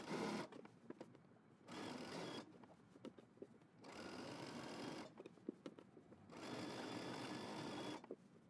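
A sewing machine stitches a seam on a side-gathered dress in three sustained whirring bursts separated by short pauses with small clicks and handling sounds, close but quiet.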